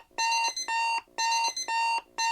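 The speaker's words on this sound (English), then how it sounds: "We hear the alarm blare." Repeated electronic alarm beeps, loud and shrill, sounding in pairs of short bursts with brief gaps between.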